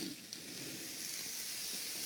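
Frozen store-bought hash browns sizzle in a preheated skillet, a steady, fairly quiet broadband hiss that holds evenly throughout with no talking.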